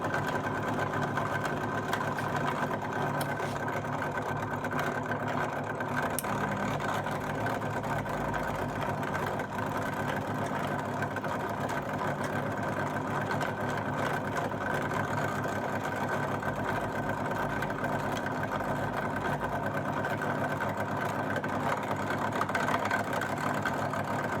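Motor of a Fagor FUS 6116 washing machine running during a test wash, with an earth leak and other faults: a steady, fairly quiet mechanical hum that drones on unchanged throughout.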